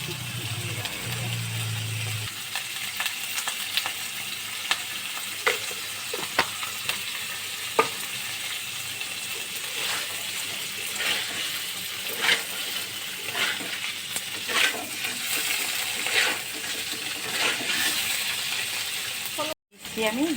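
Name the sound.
spices frying in a pan for paneer curry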